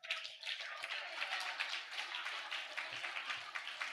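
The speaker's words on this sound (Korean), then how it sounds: "박수 한번 주세요" A church congregation clapping during a Sunday afternoon service, a quiet, steady patter of many hands in a room that keeps going evenly without a clear rhythm, with no voices over it.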